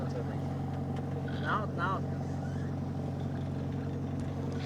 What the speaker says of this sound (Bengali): বোটের স্পিড অনুমানিক 30-40 চলছে।